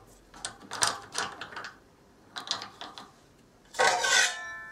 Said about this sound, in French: on dévisse l'écrou